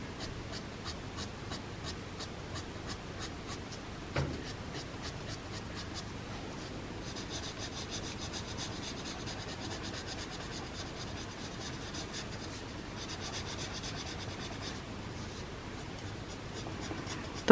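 Coloured pencil shading on paper, a soft, steady scratchy rasp of pencil-on-paper strokes close to the mic, quiet and continuous with a faster rhythmic stretch at the start.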